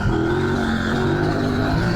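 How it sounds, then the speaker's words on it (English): A Kove 800X Rally motorcycle engine held at full throttle, a loud steady roar sustained throughout with no break or voices. "when you fully open the throttle, it's just a savage, this engine"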